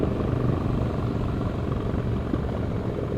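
Motorcycle engine on a ride through the Catskills, a steady low rumble with wind noise running unbroken and fairly loud throughout, no talk.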